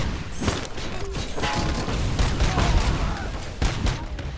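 Rapid bursts of gunfire fill a RoboCop Rogue City game session, dense overlapping shots with mechanical clatter and a few louder booms, sustained throughout.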